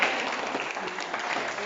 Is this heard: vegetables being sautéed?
no